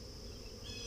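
Honey bees buzz around an open hive during an inspection, a faint, steady hum with a high whining edge, continuous and unbroken over a very short moment.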